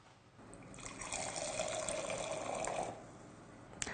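Boxed Sauvignon Blanc pours from the tap into a glass, a soft steady liquid stream that builds and runs for a couple of seconds, then stops, followed by a faint quiet tail and a brief small clink.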